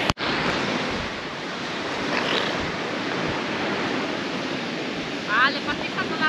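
Sea waves wash onto a beach on the Polish coast at Władysławowo in a steady broadband roar, heavy wind buffeting the microphone throughout, with a brief voice near the end.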